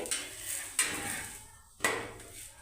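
A parotta flipped in an oiled pan gives two sharp clanks and scrapes of metal on metal, with a low sizzling hiss running between them.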